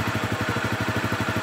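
A Honda CRF250L Rally adventure-touring motorcycle idles up close, its engine putting out a steady low rumble with evenly spaced, regular pulses throughout.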